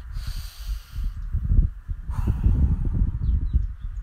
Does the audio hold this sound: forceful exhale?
yes